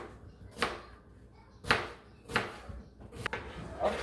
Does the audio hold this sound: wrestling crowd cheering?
no